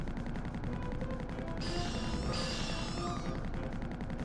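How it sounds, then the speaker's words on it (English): A frag cannon fires in a video game as a dense, continuous stream of rapid, loud blasts, sustained throughout with no pauses. "so the frag cannon does produce a lot of recoil"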